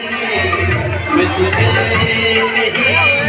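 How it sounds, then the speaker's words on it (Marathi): Crowd bustle fills a busy fun fair with food stalls, a dense babble of many voices nearby with continuous chatter and one voice talking up close. "खूप फुल गर्दी आहे"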